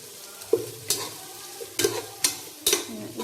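Tomatoes and chillies sautéing in a pan, with a soft continuous sizzle broken by a series of sharp spatula scrapes and taps in an uneven rhythm.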